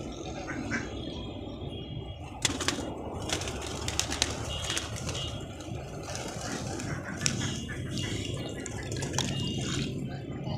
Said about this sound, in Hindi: कबूतर खोल देता हूँ मैं इधर।